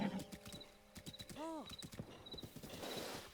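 A horse in The Legend of Zelda: Breath of the Wild clip-clops with steady hoofbeats and gives a brief whinny midway, under a voice talking over the game.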